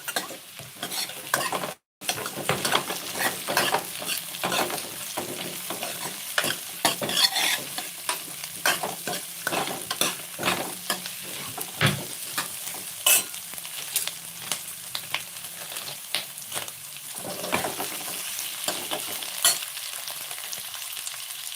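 Onions and sour tomatoes fry in a pan while being stirred, producing a continuous close sizzle broken by frequent clicking scrapes of a utensil and one brief silent gap early on, with no talking.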